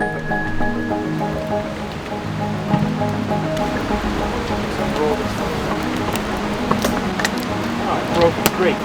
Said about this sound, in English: There's a big river right here.